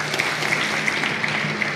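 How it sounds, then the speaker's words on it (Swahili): An audience at a human rights meeting claps together in brief, steady applause, dense and even throughout, at a moderate distance with no speech over it. "Naomba tupige makofi."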